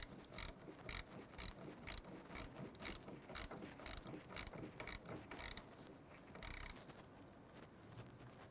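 A wrench clicks in quick, rhythmic ratcheting bursts while a battery terminal is snugged down on a Chevrolet Impala, close and quiet with no talking.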